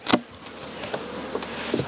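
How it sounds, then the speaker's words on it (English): Honey bees buzz steadily up close at their hives, with a few louder passes as individual insects fly near, and no voices. "Just leave the bees alone, let them do what they're doing."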